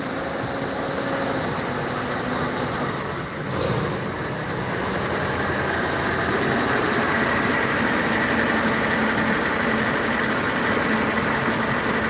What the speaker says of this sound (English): Looks like another truck has come in.